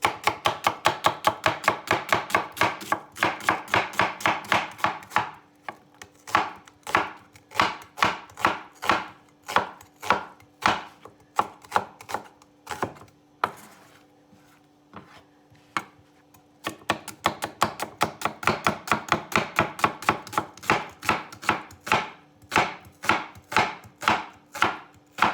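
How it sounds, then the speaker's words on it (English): Knife julienning a red onion into strips on a cutting board, rapid rhythmic chopping in close bursts, a slower irregular stretch of cuts in the middle, then fast chopping again. "So we're going to take the onion and we are going to julienne it."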